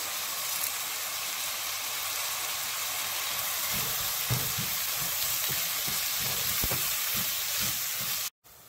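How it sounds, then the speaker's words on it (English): Tomatoes and curry leaves sizzle steadily in a pan with ginger garlic paste as a soya curry is sautéed, a dense, even frying hiss with faint stirring ticks that runs throughout without talk. "After sauteing for a few minutes, let's add the tomatoes"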